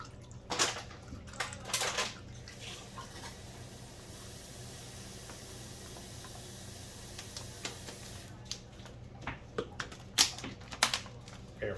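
Water runs from a kitchen sink tap to top up a ginger soy brine for smoked salmon, a steady soft hiss in the middle of the stretch, with clatter and handling knocks before and after.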